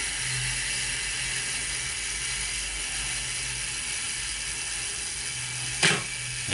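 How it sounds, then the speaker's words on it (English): A steady mechanical whirring buzz runs throughout from the self-timer of a Zenit E film camera running down, ending in a brief sharp click near the end. "Turn the delayed mechanism all the way around, and then press the little release button here"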